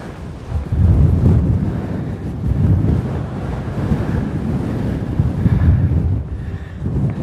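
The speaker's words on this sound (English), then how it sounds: "The wind is very strong up here." Strong wind roars across an exposed height at Theodore Roosevelt National Park in North Dakota, buffeting the microphone with a loud, continuous rumbling gust that rises and falls, with no voices.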